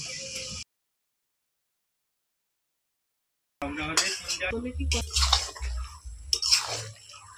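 Spiced marinated mutton drops into a pot of fried masala, giving close sizzling and wet squelching bursts after a short silent gap, with occasional clinks of a utensil.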